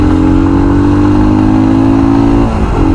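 A Royal Enfield Scram 411 motorcycle accelerates hard on a top-speed run, its engine note climbing steadily and loud, close to the rider, then dipping briefly at a gear change before pulling again.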